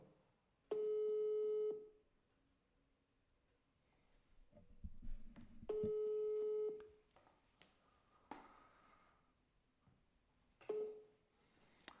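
A phone call rings out toward voicemail, with two long electronic ringback tones and a shorter third one separated by quiet gaps and faint desk sounds.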